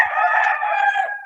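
A rooster crows once, close and loud, in a single drawn-out call of little more than a second.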